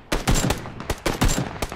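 Bursts of automatic gunfire in the battle-royale game PUBG: Battlegrounds, several rapid volleys with short pauses between them, loud and close with no talk over them.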